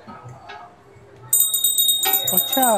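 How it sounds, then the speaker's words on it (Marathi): An electric bell on a trade fair stall in Thane bursts into continuous metallic ringing after a quiet stretch of faint background murmur, loud and close. "इलेक्ट्रिक वरती घंटी आहे"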